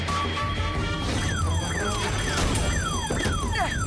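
A car alarm sounds amid crash-like smashing noise, with repeated falling sweeping tones over a loud, dense, continuous din.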